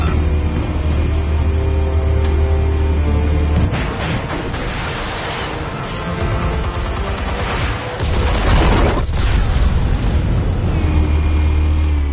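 Explosives detonating in a video game, a dense run of loud booms and crackling blasts layered over heavy, continuous battle noise, with sharper bursts standing out near the start and toward the end.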